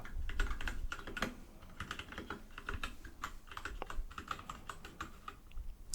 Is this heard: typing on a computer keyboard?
yes